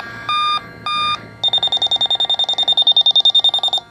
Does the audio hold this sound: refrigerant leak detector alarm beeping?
yes